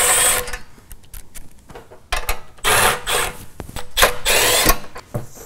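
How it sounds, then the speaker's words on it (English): Bolts are worked loose from the pull-start cover of a Honda GX engine, giving close scraping and rubbing metallic clicks in irregular bursts with short gaps. "remove the three bolts that hold it on"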